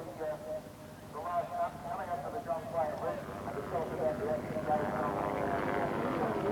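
Big Honda 1000cc four-stroke racing motorcycles at around 11,000 RPM on the long straight at Bathurst, 1983, a loud, continuous, rising engine howl that builds and holds steady, with a race commentator's voice running over it.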